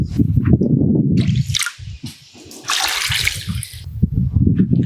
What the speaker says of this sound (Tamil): இந்த மாதிரி உயிர் தண்ணி கொடுக்கும்போது நீங்க பார்க்கணும் ஏர் பபிள்ஸ் எதுவும் உருவாகக்கூடாது